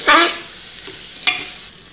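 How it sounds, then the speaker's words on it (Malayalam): Onion, ginger-garlic paste and green chilli sauté in a pan: two brief loud stirring scrapes over a faint sizzle, close and without talk. "നന്നായിട്ട് നമുക്ക് ഒന്ന് വഴറ്റി എടുക്കാം"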